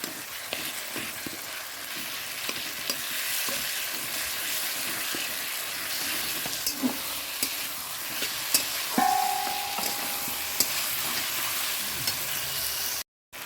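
Bhetki fish fries in a pan with cardamom, a steady crackling sizzle with occasional stirring scrapes and clicks, close and continuous throughout.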